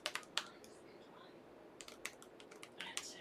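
Quick, uneven keystrokes tap on the keyboard of an HP Omen Transcend 14 laptop while a Wi-Fi password is entered, in clustered bursts with short pauses in a quiet room.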